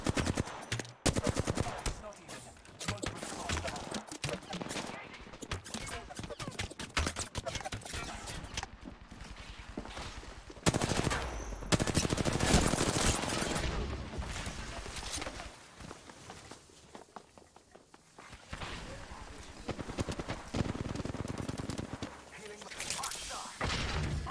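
Gunfire from the battle royale game Apex Legends rings out in repeated bursts over a noisy mix of footsteps and game effects, with players talking throughout.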